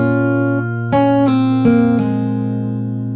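Fingerstyle acoustic guitar plays a chord with a melody line on top for a song, a few plucked notes ringing over a sustained open chord, close and clear with no talking.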